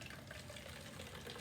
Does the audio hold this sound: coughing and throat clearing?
no